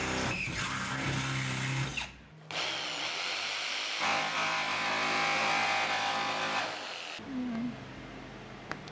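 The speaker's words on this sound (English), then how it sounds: "Let's drill our entry hole." A power drill bores an entry hole through a campervan wall for a window install, whirring loudly in bursts with pauses between, while people talk nearby.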